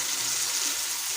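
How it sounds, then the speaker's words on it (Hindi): Fresh, unboiled green peas fry in a hot pan with a steady, close sizzle and hiss that holds evenly throughout, with no voices. "मटर को भी हम इसी तरह फ्राई करेंगे।"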